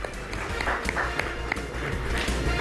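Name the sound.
loud audience applause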